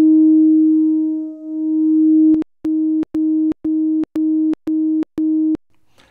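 Two identical analog synth filters with resonance at maximum ring as a steady sine-like tone that slowly swells and dips in a beating pattern, then the tone is cut into a series of short, evenly spaced pulses.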